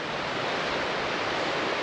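A small waterfall pours into a stream on a mountainside, making a steady, dense rush of water that fills the scene evenly from start to finish, with no voices.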